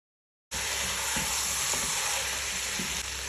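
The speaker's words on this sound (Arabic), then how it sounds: "كده يا جماعه نقلب بقى الفراخ مع بعض" Chicken pieces fry for kabsa in a pot as they are stirred, a loud steady sizzle that bursts on abruptly and keeps going with faint scraping knocks of the spoon, close by and without voices.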